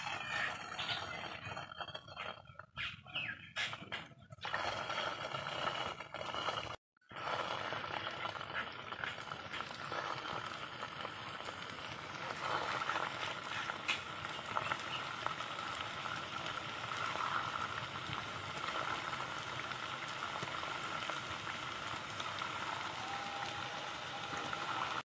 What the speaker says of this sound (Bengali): বন্ধুরা তেলটা গরম হয়ে গেছে, এখন দিয়ে দেবো মিষ্টিগুলো।